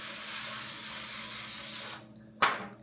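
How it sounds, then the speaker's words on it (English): Non-stick cooking spray hissing from a can onto a square baking pan, one continuous loud spray of about two seconds, then a short sharp clink of the can. "Spray an 8-inch square or 9-inch round paper non-stick spray."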